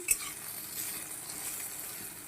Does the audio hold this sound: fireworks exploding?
no